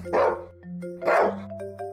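A dog gives two loud barks about a second apart, close by, with no one talking.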